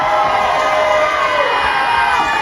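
Loud crowd at an outdoor lumberjack show with axe-throwing and log-rolling, cheering, whooping and shouting steadily throughout, with children's voices mixed into the roar.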